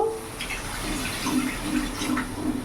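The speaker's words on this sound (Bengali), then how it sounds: "এবার আমি জল ঢেলে দেবো" Water is poured into a pan of fish masala curry made with aila fish and potol, a steady close splashing flow with faint bubbling beneath it and no talking.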